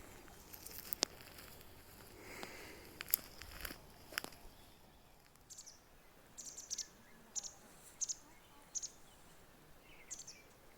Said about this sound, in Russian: Потрясающе поют птицы.